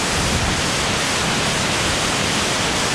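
A waterfall near Guadalupe, Colombia roars as a loud, dense, unbroken rush of falling water, constant and close, with no voices or other sounds over it.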